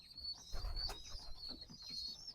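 A male pigeon, its throat puffed up for a fight, gives soft low cooing notes over about two seconds, close by and fairly quiet, with a thin high bird tone running underneath.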